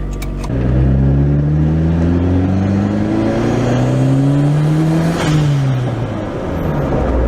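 A Honda Prelude's engine, rebuilt with a turbo, pulls through rising revs from inside the car, a steady climbing drone that eases off briefly near the end before carrying on, loud and close with no talking.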